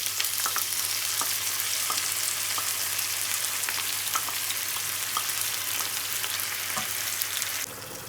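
Tomatoes are added to light golden brown onions frying in a pan, producing a steady, fairly quiet sizzle with fine crackles throughout that drops slightly at the very end.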